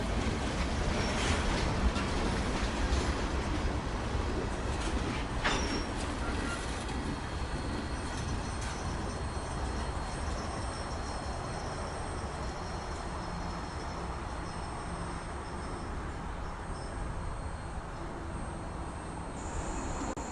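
A CSX freight train rolling past on the Trenton Subdivision, a steady broad rumble of wheels on rails lasting the whole stretch, with faint squeals and clicks rising briefly and a constant level suggesting cars moving by at close range.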